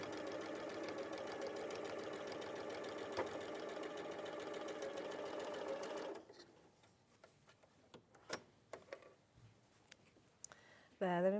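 A sewing machine stitches in a fast, even, rapid-fire rhythm for about six seconds during a live sewing show, then stops, leaving scattered clicks and handling noises in a quieter room.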